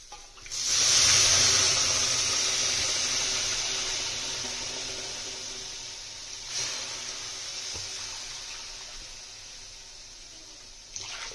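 Water poured into a hot pot of fried rice for yakhni biryani bursts into a loud hiss at once, then a long steady sizzling wash that slowly fades, with a couple of brief clatters near the end.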